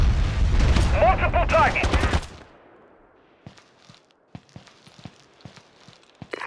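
Gunfire and an explosion in the PS2 game Ghost Recon Advanced Warfighter: a loud blast with rapid bursts and a shout, fading into a quieter stretch of scattered distant shots and clicks.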